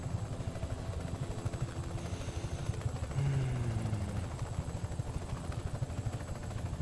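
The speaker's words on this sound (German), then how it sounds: "Ja, das ist ein Heli" A helicopter in the video game Just Cause 3, its rotor chopping in a fast, steady pulse, moderately faint and continuous, with a low engine drone beneath and no speech.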